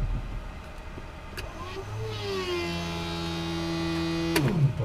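A Cirrus SR22 aircraft's piston engine is run up to full throttle after a cold start at Reims, rising from a rough idle into a steady, loud drone that holds near and constant.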